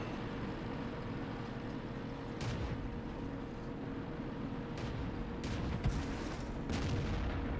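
Tank cannon shots firing and striking armor in World of Tanks during a tier six deathmatch, several sharp booms and impacts scattered over a rumbling engine and battle ambience, moderately loud.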